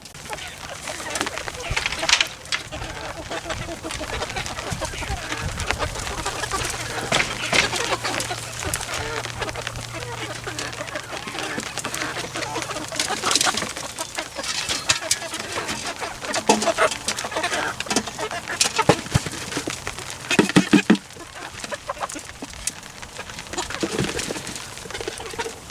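Chickens clucking and cooing inside a coop, a steady mix of bird calls throughout, with a person speaking at times over them.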